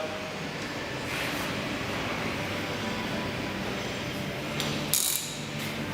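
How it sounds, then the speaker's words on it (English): Rapid ratchet clicking runs steadily as locking nuts are tightened on an Al-Ko AKS 3004 caravan stabiliser head, close and fairly loud, with a sharper metallic burst near the end. "secure with a ratchet and torque wrench to 86 Newton meters"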